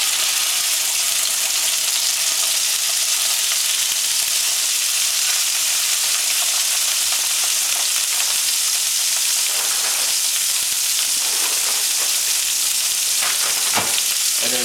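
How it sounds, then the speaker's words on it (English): Sockeye salmon fillets sizzle skin side down in hot coconut oil, a loud steady fry with crackling spits that runs on with no talking. "I got coconut oil in there. And slide them in skin side down."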